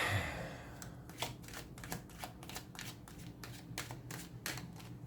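Tarot cards shuffled by hand in a quiet room, a close, crisp run of rapid riffling bursts repeating about a dozen times in an even rhythm.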